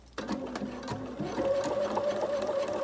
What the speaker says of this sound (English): I'm going to sew, and the idea is that you sew as close as possible to the edge.